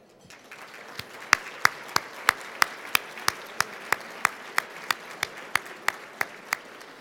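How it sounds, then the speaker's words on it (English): Audience applause at a gala dinner: a steady bed of clapping with distinct individual claps standing out in a regular rhythm, moderately loud and sustained throughout. "Please join me in a round of applause for a duo vibrato"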